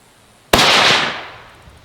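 A single sharp rifle shot from a gun with a light 8-ounce trigger at a shooting range, loud and close, with a sudden crack followed by a long decaying echo and no talking.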